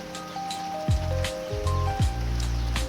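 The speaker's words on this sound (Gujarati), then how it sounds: "વરસાદ ચાલુ થઈ ગયો છે જો" Rain patters steadily on a surface during a cool spell in rural Gujarat, a constant soft hiss with scattered drops, while faint tones drift in the background.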